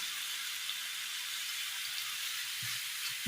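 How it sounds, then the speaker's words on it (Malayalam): Ginger sautéing in a hot pan for a Kerala-style curry, giving a steady, even sizzle throughout with a faint low thump near the end. "ഇത് നന്നായി ഒന്ന് വഴറ്റിയെടുക്കാം"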